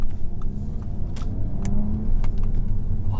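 Mk3 Audi TT coupe with a manual gearbox accelerating along a bumpy country road, a steady low engine rumble heard from inside the cabin with road noise and occasional light knocks and rattles.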